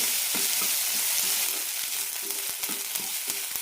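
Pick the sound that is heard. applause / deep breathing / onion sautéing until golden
onion sautéing until golden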